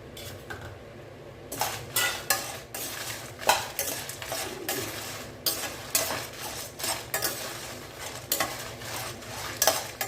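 Dry tamarind and spices roasting in a pan, with a utensil scraping and stirring in an irregular rhythm of clinks and rustles, close and moderately loud, no voices.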